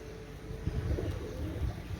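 Soft cooing from a pair of Pakistani Kashuri pigeons, low and muffled at close range over a steady background hum, with no talk.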